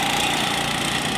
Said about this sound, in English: Oh, it sounds like he's got engine problems.